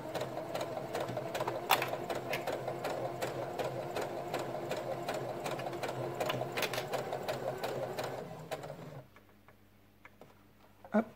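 A domestic sewing machine runs steadily, stitching bias binding onto fabric with a fast, even mechanical patter for about eight seconds, then stops, leaving near silence and a few faint clicks.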